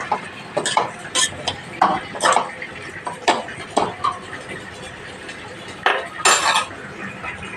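A spoon stirs ash gourd and moong dal curry in a metal pot, giving a string of scattered metallic clinks and scrapes at close range, ending with a few sharper clanks as a lid goes on.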